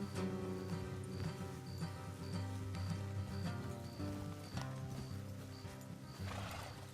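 In the video game Red Dead Redemption 2, horses whinny and snort over game music and soft clip-clopping, with a light patter like rain running underneath throughout.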